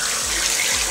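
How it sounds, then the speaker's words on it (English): Tap water runs steadily into a bathroom sink during face washing at night, a continuous close splashing hiss with no voices. "So let's wash our face."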